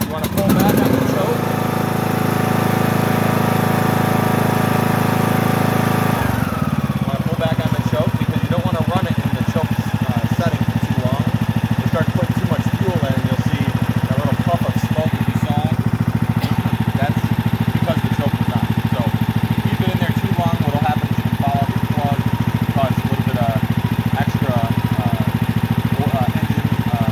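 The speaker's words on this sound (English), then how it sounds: "if the mower's been maintained properly, it should start up fairly fast" A riding lawn mower engine cranks and catches, then settles into a steady, loud, close idle with a constant low drone and some rattly clatter.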